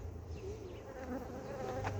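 Honeybees buzz at an open hive being smoked during cold winter weather, a continuous close droning hum with individual bees passing near, and no talk.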